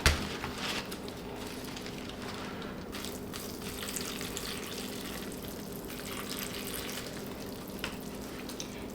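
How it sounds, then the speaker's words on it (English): Water pours and trickles steadily into soil for several seconds, a continuous soft splashing hiss close by with no talking. "And that's all the water I'm gonna give her."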